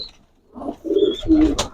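High-flyer pigeons coo on a small pigeon farm: a few soft, throaty, rolling coos come in quick succession after a short quiet start, fairly close and clear, with no talking.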